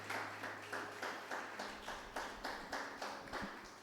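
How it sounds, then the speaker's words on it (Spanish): A church congregation claps in rhythm during a Spanish-language sermon, steady, evenly spaced beats about three per second, somewhat distant and reverberant, with a low hum underneath. "Dale un aplauso al Señor si usted lo cree."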